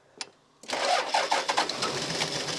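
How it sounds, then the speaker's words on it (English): A Toyota Land Cruiser engine cranks on the starter after a brief click, then gives a loud, steady, churning turnover with a pulsing rhythm for about two seconds without catching. "So I'll need a tiny bit more cranking."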